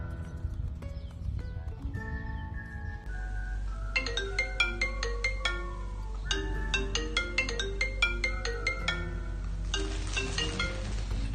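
A melodic phone ringtone signals an incoming call, its bright synthetic notes repeating in a steady pattern over a low background hum, loud and continuous with no voices over it.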